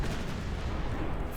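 Dense, continuous booming gunfire from light cruisers rumbles without pause, heavy and low, like rapid cannon volleys in a battle game, Dreadnought Improvement Project.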